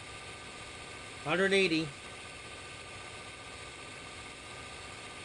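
A locomotive engine at maximum throttle in Trainz Simulator 3 holds a steady, even drone throughout, while someone speaks one short word over it partway through.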